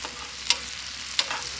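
Bacon frying in a pan on a rocket stove outdoors in the cold, a steady soft sizzle with a few sharp clicks or taps at intervals.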